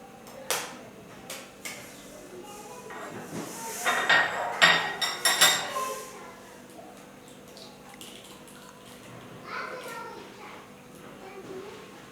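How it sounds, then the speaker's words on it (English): Eggs are separated, yolk from white, in a kitchen, with a cluster of bright shell clinks and taps against a bowl in the middle and a few faint knocks before and after in a quiet room. "we are going to separate egg yolk from egg white"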